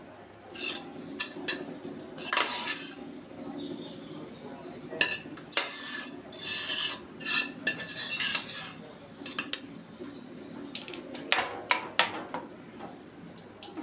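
Metal spoon scraping and clinking in a pot while cooked rice is mashed and stirred into milk for payasam, with irregular close scrapes and taps in bursts and no talking.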